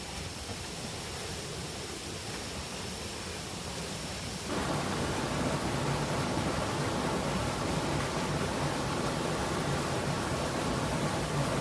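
The Yeh Hoo 4 waterfall in Bali rumbles as a broad, constant roar of falling water that grows noticeably louder partway through as it is approached.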